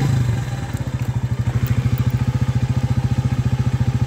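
A Mondial 150 motorcycle engine fires up and settles into a steady, rapid thumping idle, loud and close.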